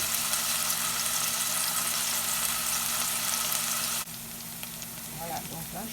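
Onions sauté lightly in hot oil in a pan, giving a steady broadband sizzle that drops slightly in level partway through and continues more softly with a few faint crackles.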